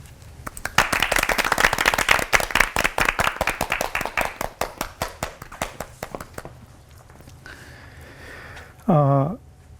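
Church congregation at a televised Christian program clapping in a brisk, loud burst that thins out over several seconds, followed by a short tonal sound near the end.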